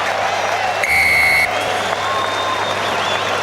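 A big stadium crowd at Toll Stadium applauds and cheers a try in a rugby match between NZ Maori and NZ Barbarians, a steady wash of clapping with a brief buzzer-like tone early on and commentators talking over it.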